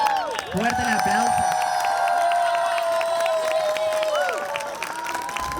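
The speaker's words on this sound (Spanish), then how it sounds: "Fuerte el aplauso." Audience applause and cheering at an outdoor plaza performance, a steady crowd roar with clapping and shouts running throughout, loud and near, while voices call out over it.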